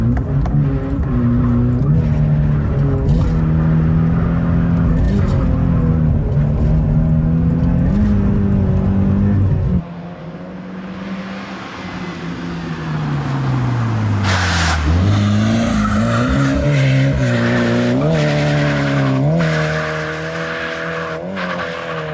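A Toyota GT86 drifts with the handbrake. Its engine roars steadily at high revs, then drops briefly before revving up again, while tires squeal and hiss loudly through the long slide.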